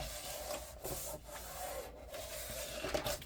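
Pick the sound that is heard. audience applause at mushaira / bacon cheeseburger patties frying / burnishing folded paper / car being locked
burnishing folded paper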